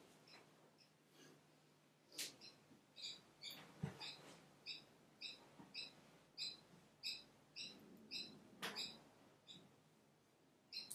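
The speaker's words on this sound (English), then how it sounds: "You hear the bird?" Outdoors, a small bird chirps in a quiet setting, sounding as a steady series of short, high twittering notes repeated about every half second, faint and distant, with a couple of soft clicks or knocks in the background.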